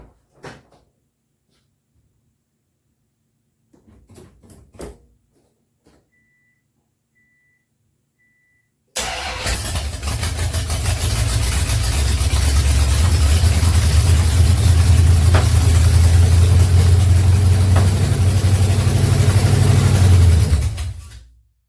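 A Honda fitted with a swapped 440 V8 engine fires up after a few faint clunks and settles into a loud, rough, rumbling idle that holds steady for over ten seconds before cutting off.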